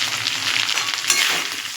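Rice with a little turmeric is stirred and fried in a hot pan. The sizzling is close and continuous, with soft scraping from the stirring and no talk.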